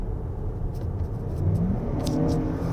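Engine sound from a 2024 Lexus RX500h F Sport Performance driven in eco mode, a moderate whirring hum rising slightly as revs climb, heard from inside the cabin.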